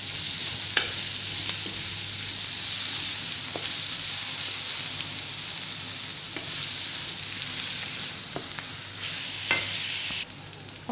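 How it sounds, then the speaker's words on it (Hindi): Ginger and garlic sautéing in a pan for sarson ka saag, a steady close sizzle of frying with occasional stirring clicks and scrapes throughout, no talking. "ये अदरक और जो लहसुन हमने डाला था वो सोते हो चुका है"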